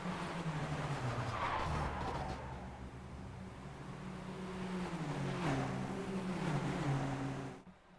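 Jetta race cars on an oval section in iRacing: engines drone and shift pitch while tires squeal and skid through a crash, a steady mid-level roar that fades out at the end.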